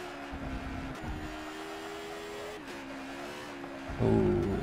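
A car engine in Forza Motorsport 7 holding a steady, buzzing drone that dips briefly, then jumps into a louder, harsher rev near the end, close and without talk.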